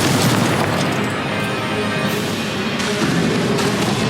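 Confringo blasting spell explosion in Hogwarts Legacy on PS4: a loud, dense, rumbling blast roar that fills the whole moment with crashing noise and no pause.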